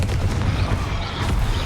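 During combat in Hogwarts Legacy, a Confringo spell explodes with a deep booming blast, and rumbling bursts fill the brief moment.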